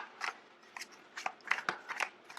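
Tarot cards being drawn and handled from a deck, a run of close, crisp papery snaps and rustles in quick irregular bursts with no talk.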